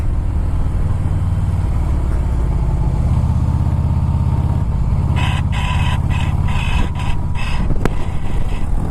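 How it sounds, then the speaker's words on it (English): A Harley-Davidson Fat Boy S with a 110 Screamin' Eagle engine downshifts through tight twisty corners. The loud, close V-twin rumble blips and rises in revs as gears drop, with no voices. "Dropping the gears down, see what it's like."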